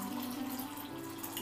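Warm water pours steadily into a bowl for sourdough bread dough, a continuous close splashing flow with no voices.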